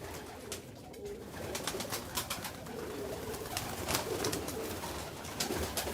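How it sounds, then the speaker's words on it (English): Pigeons in an aviary near nesting boxes: soft, low cooing repeats under a steady hiss of room noise and scattered faint clicks, with no talk. "Beautiful pigeons."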